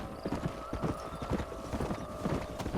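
Galloping horses in the video game Red Dead Redemption, a rapid, close clip-clop of many hooves with whinnying mixed in, continuous and fairly loud.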